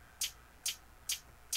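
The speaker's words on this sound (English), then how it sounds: "I have two hi-hats going on." A trap-beat hi-hat ticks four times in an even rhythm, each a short bright crisp hit with quiet gaps between, alone and up close.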